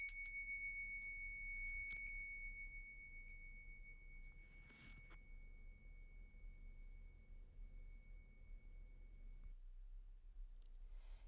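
A single bright bell tone rings out near the start and hangs as a long, clean fading note over quiet background hiss, with a few faint clicks after it.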